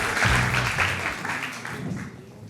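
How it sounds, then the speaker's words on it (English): A live audience at a debate show claps as the debaters take their seats, a full burst of applause with a low thump near the start, then thinning and fading toward the end. "Round of applause as your debaters take a seat."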